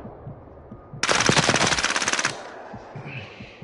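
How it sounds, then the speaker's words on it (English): A loud burst of rapid automatic gunfire in a horror video game, a fast rattling volley lasting just over a second that cuts off abruptly, with low background noise before and after. "What are you shooting?"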